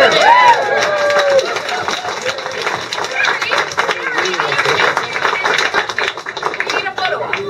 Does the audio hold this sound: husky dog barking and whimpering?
no